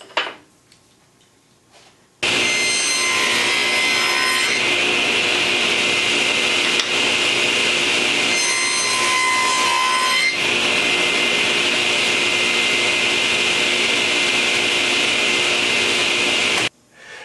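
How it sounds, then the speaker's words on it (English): A table saw cuts corner slots in wooden panels, a sharp high whine starting after a quiet moment and holding steady for about fourteen seconds, with two louder bursts as the blade bites, then cutting off abruptly. "I'm back at the table saw, and now I'm going to be cutting the slots for all of the corners"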